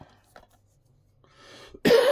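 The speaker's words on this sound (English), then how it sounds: "Excuse me, coughing again." A single sharp cough bursts out loudly at the end after near silence, preceded by faint breathy throat sounds.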